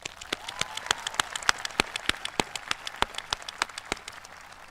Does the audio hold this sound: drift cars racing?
no